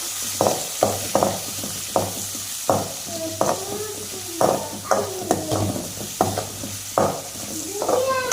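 Onions sautéed in a pan for a potato gravy, with repeated scraping stir strokes over a steady low sizzle, close and moderately loud; a few faint background sounds and a low hum sit underneath.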